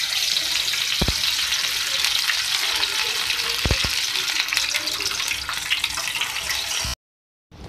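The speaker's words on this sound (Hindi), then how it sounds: "अब मैं इसको फ्राई कर रही हूँ।" Marinated fish sizzles steadily in hot oil in a home kitchen, a continuous loud crackle with a few clinks of a utensil, ending in a sudden cut to silence.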